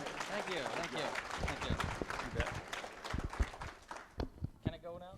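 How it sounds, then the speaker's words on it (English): Audience at a student auction at an auctioneering college claps for an auctioneer, fairly faint applause with distinct individual claps and voices talking over it. "How about a round of applause for this auctioneer,"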